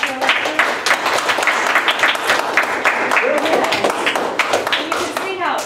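Middle school students clap after a lecture in a classroom, producing a loud, uneven patter of many hands with voices chattering over and through the applause.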